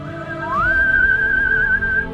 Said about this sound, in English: I think that's the weakest whistle I've ever done in my life